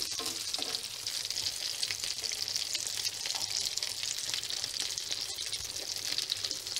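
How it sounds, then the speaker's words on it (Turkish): Frozen meatballs frying in a pan, a steady close hiss and crackle of hot oil that continues without pause. "Akşam yemeğine köfte kızartıyorum."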